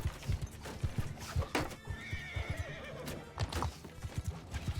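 Many horses gallop with dense, fast clip-clop hoofbeats while one neighs clearly in the middle, amid a cavalry clash with horse archers coming over a hill in Bannerlord, steady and moderately loud throughout.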